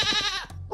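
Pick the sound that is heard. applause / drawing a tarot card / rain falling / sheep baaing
sheep baaing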